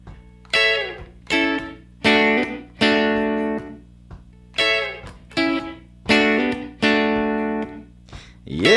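Guitar plays the first half of the verse of a song: a run of bright, strummed chord hits with a rhythmic, slightly distorted electric tone, each chord ringing then cut short, close and alone.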